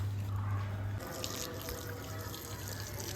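Water from a garden hose pouring onto growing spinach plants, a steady close splashing stream with a low constant hum beneath it that drops away after the first second, no voices.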